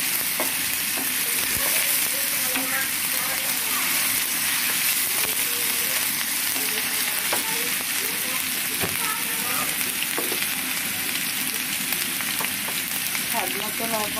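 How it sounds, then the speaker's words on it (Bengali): Garlic, ginger and cumin paste fries with onions in a pan, giving a loud, continuous close sizzle with occasional spatula scrapes and clinks throughout. "যদি আমি একটু ভালো করে ভেজে নেব।"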